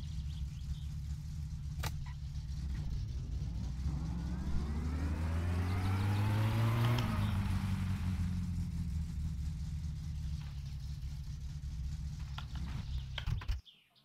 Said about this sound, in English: My car keeps on stalling.